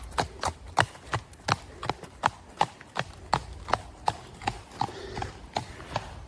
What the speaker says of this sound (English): First time I've seen a horse